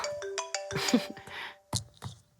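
Short tonal ringtone chimes sound in a quick melodic pattern with a few brief gaps, fairly close and clear.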